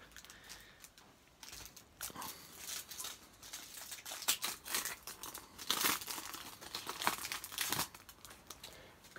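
Foil packets of Russia 2018 FIFA World Cup Adrenalyn XL trading cards are torn open, with close crinkling and ripping in quick irregular bursts, quiet and with no talking.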